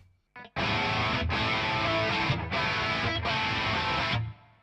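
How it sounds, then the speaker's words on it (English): Electric guitar played through an amp on a crunch channel with light distortion, strummed chords ringing in several sustained bursts with short gaps, loud and close, no talking. "I also have a crunch sound with a little bit of distortion."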